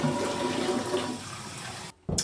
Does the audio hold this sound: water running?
yes